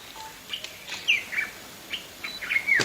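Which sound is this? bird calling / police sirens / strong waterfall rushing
bird calling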